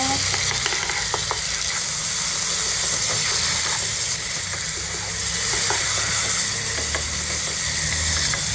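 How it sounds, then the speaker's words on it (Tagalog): Chicken sautéing in a pan for pininyahang manok sizzles steadily with a loud, constant hiss, broken by occasional scraping stirs, close up and with no talking. "Ilagay ko na siya dito, igisa."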